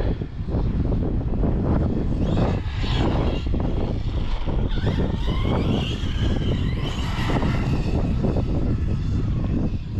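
An Arrma Big Rock 6S RC monster truck drives hard, its electric motor whining as the tires tear up loose ground, all under a loud, continuous roar of wind buffeting the microphone.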